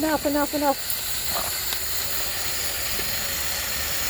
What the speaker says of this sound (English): stand back because there's going to be steam coming out the other side